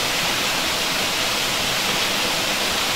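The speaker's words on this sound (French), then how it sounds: "Il y a plein de gouttes qui tombent partout," Water drips and trickles everywhere inside an ice cave, merging into a dense, steady, hissing wash with no single drops standing out and no talk.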